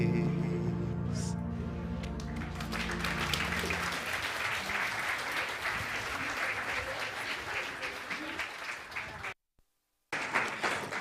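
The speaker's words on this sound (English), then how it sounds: "One more round of applause" Crowd applause at a Commonwealth forum opening ceremony rises as music fades out, then holds as a broad, steady roar of clapping before a brief dropout and a return.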